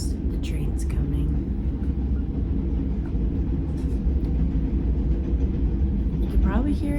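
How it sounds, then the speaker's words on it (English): A passing train produces a steady low rumble outside, continuous and moderately loud, with a faint voice near the end. "Of course, the train's coming."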